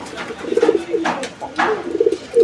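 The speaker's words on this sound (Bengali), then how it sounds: "এটা কালদম কবুতরের দ্বিতীয় পেয়ার প্রিয় দর্শক কালদম কবুতরের" Kaldom pigeons cooing close by in soft, throaty repeated bursts, several calls overlapping with faint rustling between them.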